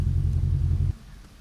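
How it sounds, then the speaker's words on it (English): A loud car's engine rumbles heavily and steadily up close for most of the moment, then cuts off abruptly into a quieter, lower idle-like murmur. "All because my car is loud."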